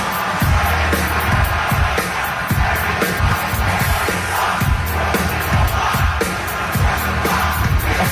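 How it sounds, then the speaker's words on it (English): A packed arena crowd at a concert sings along in loud unison, a dense roar of voices over thumping, rhythmic bass hits, steady and full throughout. "It's just the crowd. Yep. They're singing every word."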